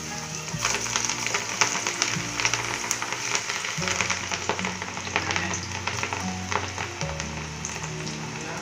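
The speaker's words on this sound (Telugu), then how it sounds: "ఇప్పుడు దీన్ని మనం కాగుతున్న నూనెలో వేసేసుకుందాం." Cabbage pakoda fritters frying in hot oil, a steady close sizzle and crackle that continues throughout with small bursts of popping, no voices.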